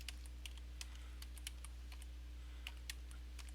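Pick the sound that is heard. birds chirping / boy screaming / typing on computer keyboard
typing on computer keyboard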